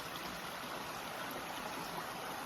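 A stream in Tennessee flows steadily, a continuous soft rushing and trickling of water with no voices over it.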